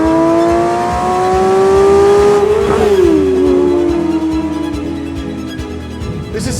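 A 2024 Porsche 911 S/T's naturally aspirated 4-litre flat-six revs up loud and steady, peaks sharply, then drops back as the revs fall, a smooth rising and falling engine note with no talk.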